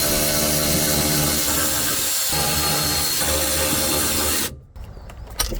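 A loud power tool whirs and hisses continuously while undoing an 8mm nut on a Land Cruiser during a fuel filter job, then cuts off abruptly, followed by faint clatter.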